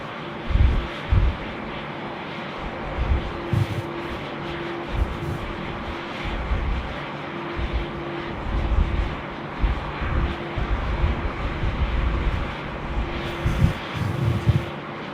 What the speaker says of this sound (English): Kilo 403, runway 34 left, cleared for immediate takeoff